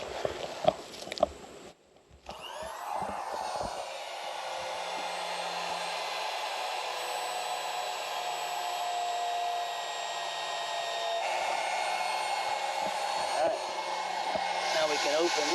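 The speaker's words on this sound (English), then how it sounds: "All right, we're going to plug the pump in." An electric pump for a DIY heated stock tank pool starts after a couple of seconds and runs as a steady, close, continuous whirring drone, with some handling noise at the start and brief speech faint underneath.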